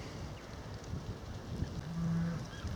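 A single low moo from cattle, fairly distant, over soft wind noise outdoors.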